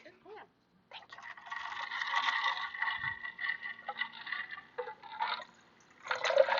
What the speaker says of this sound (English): Step 2, pour in water.